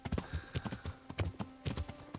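Horse hooves clip-clop on the ground while riding in Kingdom Come: Deliverance, a close, steady rhythmic series of thuds with no talking.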